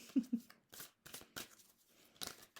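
Tarot cards are shuffled by hand in a few soft, quick riffling and flicking bursts, close and faint, with no talk.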